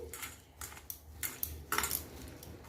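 Onion bhajiya batter being mixed by hand with spices, giving soft, irregular wet squelches and light clinks in close quarters, with no talking.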